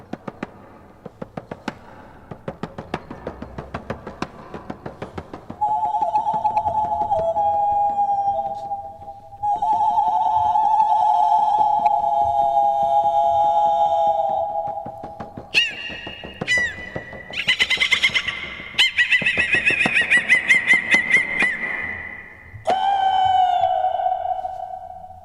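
A Siberian singer imitates bird calls with her voice, moving from low rattling noises to sustained warbling tones and then to high, shrill, whistling cries.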